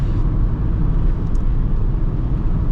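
A Citroen C5 car taken through corners at a decent speed, heard from inside as a steady, loud low rumble of road and engine noise that continues without a break.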